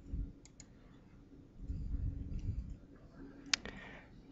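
Mouse clicks in data-table software, a few faint short ticks with one sharper click near the end, over low background hum.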